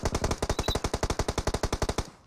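Rapid automatic gunfire from a PUBG Mobile match, a loud, steady burst of about twenty evenly spaced shots over two seconds with no talk.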